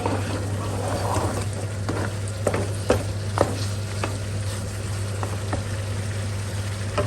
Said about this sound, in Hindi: अब इनको हमने अच्छी तरह से भूनना है 2 से 3 मिनट के लिए। हाई फ्लेम के ऊपर।